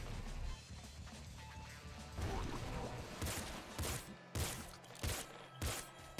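Kraken pistol fire in the video game Nuclear Throne Ultra Mod comes as a few sharp, splashy bursts spaced irregularly over a quieter game background.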